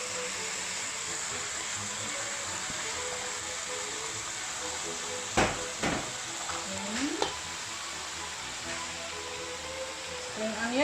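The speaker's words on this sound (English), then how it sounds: "And the next is you put the cabbage and fry some." Cabbage stir-fried in a pan for nasi goreng, a steady sizzle with scraping stirs and a few sharp utensil knocks midway, a voice talking faintly underneath.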